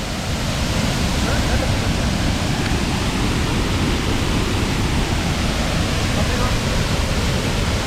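A waterfall at Rani Jhari near Chikmagalur, Karnataka, gives a steady, loud, broadband roar of falling water that holds without a break.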